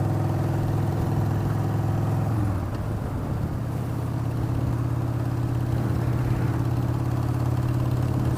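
A motorcycle engine fitted with a Hammer Performance 1250 kit idles steadily close by, a deep throbbing drone that dips briefly and then settles back to an even low rumble, with no talking.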